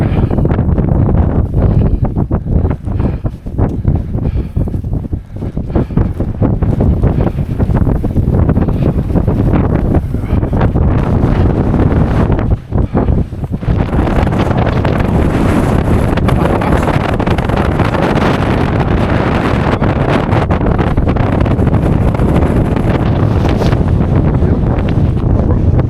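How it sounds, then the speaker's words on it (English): Strong, freezing wind gusting over the microphone high on a Lake District mountain in winter, a loud continuous roar and buffeting that fills the whole stretch, with no one talking. "And the wind's getting up."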